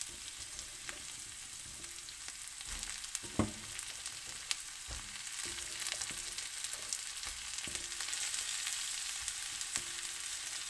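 Cut string beans tossed in a pan with already-cooked onion for adobong sitaw, giving a steady soft frying sizzle broken by occasional clacks and scrapes of a stirring utensil.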